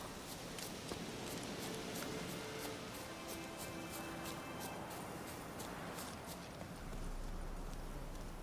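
Horse hooves clip-clop at a steady walking pace in The Witcher 3: Wild Hunt video game, a faint, regular train of crisp knocks over a soft background hum.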